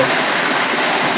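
A jungle waterfall along a river near Muara Teweh pours in a dense, loud, steady rush of falling water with no voices heard.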